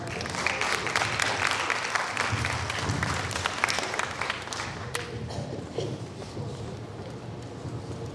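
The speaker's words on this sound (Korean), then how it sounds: "큰 박수 부탁드립니다." Loud applause from a school audience before a student team's AI presentation, dense clapping that stays strong and steady, then gradually thins out toward the end.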